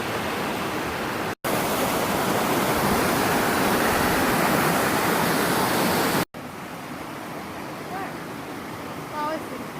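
Crystal Creek waterfalls pour with a loud, steady, broadband rush of falling water close by, broken by two brief cuts, with faint voices toward the end.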